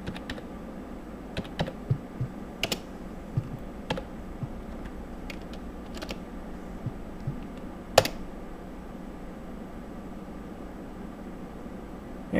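Someone types a router's IP address on a computer keyboard, with scattered individual keystrokes tapping over a steady low electrical hum in a quiet room.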